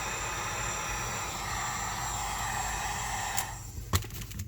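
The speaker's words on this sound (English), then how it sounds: "I'm getting the heat gun pretty close to the Kydex" A heat gun blows a steady, loud broadband roar while warming a sheet of Kydex close up; near the end the blower cuts off, leaving a few sharp clicks and taps.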